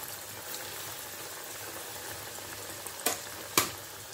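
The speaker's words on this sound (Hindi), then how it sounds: "ऑयल पहले से ही गर्म होने के लिए रख दिया था। फ्राई कर लेती हूँ।" Coated potato nuggets fry in hot oil with a soft, steady bubbling sizzle, broken by two sharp pops or spatters close together near the end.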